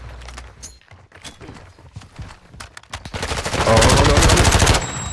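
Automatic weapon fire in the Call of Duty Modern Warfare 2 ranked multiplayer video game: scattered shots and footsteps give way to a long, loud, sustained burst of rapid gunfire that cuts off near the end.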